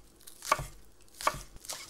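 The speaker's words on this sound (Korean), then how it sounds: "쪽파는 1cm 정도로 잘라줄게요." Knife chopping green onions into one-centimetre pieces on a cutting board: three or four crisp, close chops spaced unevenly over two seconds, with no voices.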